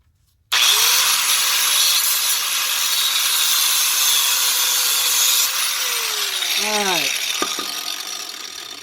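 A loud power cutter throwing sparks grinds steadily through metal on Toyota 8-inch rear differential armor after a sudden start, its pitch dipping and winding down near the end.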